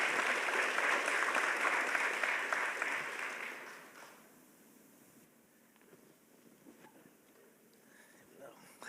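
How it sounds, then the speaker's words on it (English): Audience at a social justice community summit applauds the panelists, a full round of clapping for about four seconds that tapers off into a quiet room with faint scattered sounds. "give me a round of applause for my panelists."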